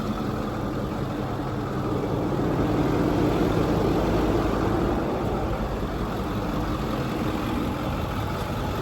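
A Ford Power Stroke 6.4 diesel truck engine idles steadily and continuously at close range, a low rumbling drone with no talk over it.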